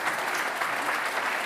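Graduation ceremony audience applauding steadily, a dense wash of clapping from many hands that holds at an even level throughout the brief moment.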